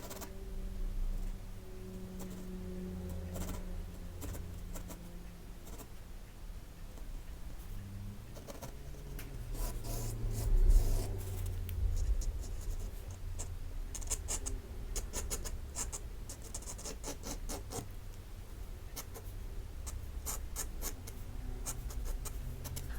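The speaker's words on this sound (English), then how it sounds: "so far I've sketched just roughly all the lines and marked everything down" A pencil sketches rough lines on paper in a series of soft, close scratching strokes, quicker in the second half, while pigeons coo faintly in the background.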